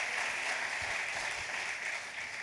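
An audience at a lecture on Lincoln applauds, a steady wash of clapping from many hands, moderately distant and even, fading slightly toward the end.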